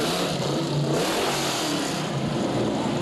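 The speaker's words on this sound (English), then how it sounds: "Yes, you can hear the car around the circuit." A racing Camaro race car engine revs on a circuit during an outdoor holiday parade, a continuous mid-distance engine roar over broad crowd and street noise, with no clear gaps.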